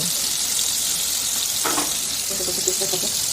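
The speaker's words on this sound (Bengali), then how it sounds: "এবার আমি মশলাটা একটু কষে নেব" Spice paste for pabda fish curry sautés in a pan with a constant, fairly loud sizzling hiss, and a few faint scraping stirs come through midway and toward the end.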